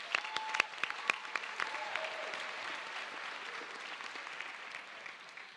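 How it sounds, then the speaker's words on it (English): An audience at a high school early college graduation ceremony breaks into applause, opening with a few sharp, distinct claps before settling into steady, moderately distant clapping that gradually thins. "So a round of applause for everyone,"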